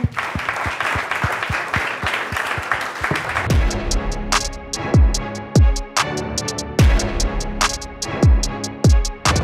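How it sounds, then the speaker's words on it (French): An audience applauds, first as a dense patter of many hands, then thinning into fewer, louder individual claps mixed with sharp percussive hits and low thumps. "on peut vous applaudir en tout cas, merci beaucoup"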